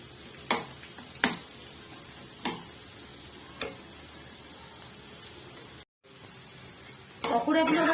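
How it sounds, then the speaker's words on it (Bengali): Vegetable pakoras frying in hot oil give a steady, faint sizzling hiss, broken by a few sharp ticks and pops, with a brief drop near the end. "উল্টে দিয়ে এই পিঠটাও ভাজতে দিয়ে দেবো।"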